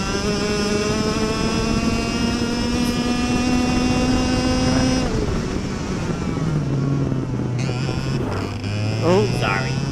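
Go-kart engine drones loudly from the driver's seat in a race, its pitch falling sharply around the middle as the driver briefly brakes, then holding low while another kart's engine whines nearby.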